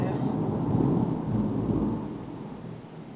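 Loud, rolling thunder rumbles during a July lightning storm in Olympia, Washington, with rain hissing steadily beneath it. The deep roar swells for about two seconds and then slowly fades.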